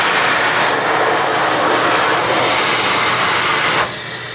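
A 2010 Excel Dryer XLERATOR hand dryer in a Marshalls store restroom in Cheektowaga, NY roars with a loud, steady, high-powered airflow, then abruptly drops to a lower whir near the end, with no talking.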